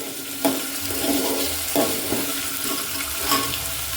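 Green chili and tomato hit hot oil in a pan as tempering for dal dhokli, giving a steady moderate sizzle with a few sharp stirring clatters, close and without talk.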